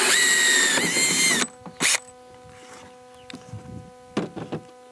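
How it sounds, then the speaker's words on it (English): A power drill whines loudly for a second and a half while drilling a hole in a bucket, then a brief second burst, followed by light clicks and scraping handling noises. "and drill our hole."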